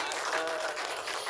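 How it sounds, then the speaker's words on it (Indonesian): Audience applause at a film press conference for a trailer and poster launch, a brief burst of steady, dense clapping from a crowd filling the room. "Kita berikan tepuk tangan dulu dong buat berdua."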